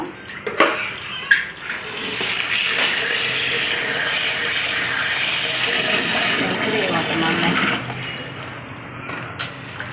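Raw chicken pieces are washed under running water in a home kitchen, a steady splashing, rushing stream that runs for most of the stretch, with a few sharper knocks near the start and the flow easing off at the end.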